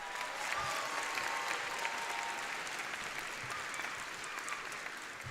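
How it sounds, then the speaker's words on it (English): Sustained applause from a large commencement audience honoring graduating classmates, dense steady clapping filling the hall without a break. "may we have another round of applause for your amazing classmates"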